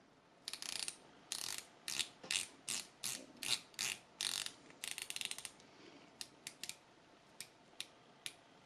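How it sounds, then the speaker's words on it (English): A titanium dive watch's 120-click bezel, on an Aerotec Forte diver, is turned by hand, making rapid bursts of crisp ratcheting clicks, several at a time, then slower single clicks, close up with no voices. "The bezel seems pretty simple with no visible grips other than these indentations, so let's try it to see how hard it is to turn."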